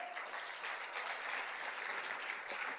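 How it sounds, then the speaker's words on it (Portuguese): Steady congregational applause in a church service, a dense, even wash of many hands clapping throughout with no voices over it. "Aplauda ao Senhor"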